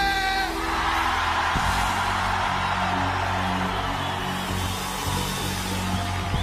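A large live-concert crowd roars and screams together, loud and sustained for several seconds, with faint musical tones lingering at the start.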